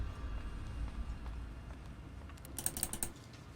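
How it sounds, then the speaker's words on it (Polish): Loud computer mouse clicks during play of This War of Mine, a quick cluster of sharp, close clicks near the end over a faint, low background hum. "Mam strasznie głośną myszkę i co kliknę to słychać ją"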